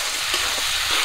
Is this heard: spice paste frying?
yes